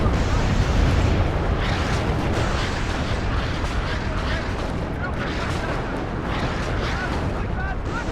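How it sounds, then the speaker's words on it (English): Rocket artillery slams into infantry in WARNO, a loud rolling barrage of explosions and gunfire-like cracks that runs for several seconds. Someone talks over the blasts. "rocket artillery hitting my infantry pretty nicely"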